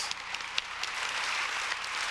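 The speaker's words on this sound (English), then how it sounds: "Let's give James one more round of applause." A community gathering audience gives a round of applause for a speaker named James, a broad crackling wash of many hands with a few sharper claps poking out early on.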